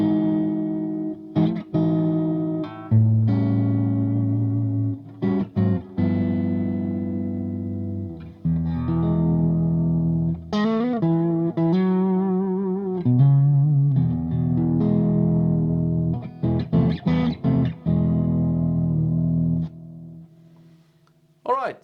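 Electric guitar played through a Boss DS-1 distortion pedal, its tone control rolled back for a cleaner sound: strummed chords and single-note runs ring out alone, fairly loud, with sustained notes and brief pauses between phrases.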